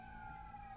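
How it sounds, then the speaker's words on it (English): Police car sirens wail faintly in the distance as they go past, a steady, sustained tone held through the whole short moment with no voices. "got lots of police cars going past or something"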